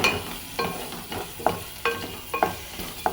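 Slit green chillies stir-fried in a pan for an okra tamarind stew, with a steady soft sizzle and repeated scraping stirs about every half second, close and alone.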